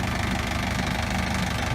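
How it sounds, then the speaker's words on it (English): A farm tractor engine idles in a steady, low, continuous rumble with a faint knocking texture, close and constant throughout, with no voices. "You see my tractor there."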